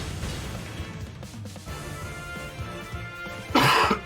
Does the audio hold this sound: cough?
yes